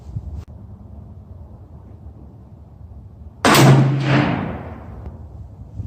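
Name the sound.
two gunshots fired at bench, open sights, 25 yards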